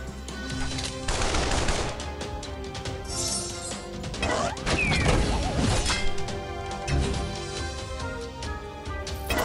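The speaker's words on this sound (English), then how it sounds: "Tommy gun!" A tommy gun rattles off rapid bursts in the cartoon game Looney Tunes: World of Mayhem, loud and continuous, mixed with crashing impacts, whacks and game music, no speech over it.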